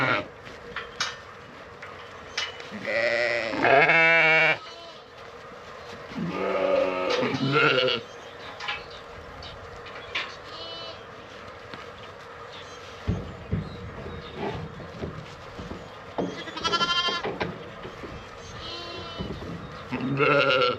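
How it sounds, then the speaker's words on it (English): Ewes bleat on a small farm in several loud, wavering calls, some overlapping, spaced across the stretch with quieter rustling and shuffling between them. "I guess the first thing we have to do is get the ewes out of here."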